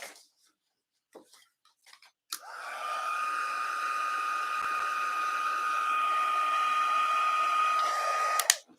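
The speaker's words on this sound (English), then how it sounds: "let me dry this a little bit with my heat tool because I do not want it to stick" A craft heat tool blows hot air to dry freshly stamped ink on a card, a steady close whooshing hum with a whine that starts abruptly and runs for about six seconds before cutting off.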